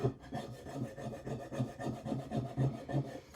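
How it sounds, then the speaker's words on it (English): Acrylic paint is scraped off the back of a glass plate in steady repeated strokes, a close, rhythmic raspy rubbing about twice per second. "And I'm just going to keep on scraping it."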